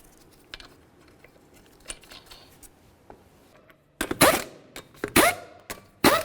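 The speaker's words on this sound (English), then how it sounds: "We're going to start on all 5 of our lug nuts." Lug nuts on a Dodge Journey wheel are tightened during lower control arm work, first as faint clicks and rattles, then as a run of loud, sharp bursts from a close power tool.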